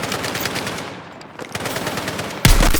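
Bursts of automatic rifle and machine-gun fire from a Battlefield 6 campaign mission rattle close and loud, rapid shots dipping briefly before a harsher, heavier volley at the end, with no talk.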